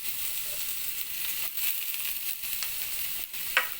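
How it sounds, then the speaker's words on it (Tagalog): Garlic sautéing in oil in a wok-style pan, a steady hissing sizzle with occasional stirring scrapes, close and continuous without talk. "Lagyan natin yung garlic. Gigisa natin siya."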